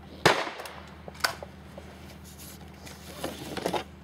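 A shotgun fires at clay targets outdoors, with one loud sharp report near the start, a second softer shot about a second later, and then a quieter rustling stretch.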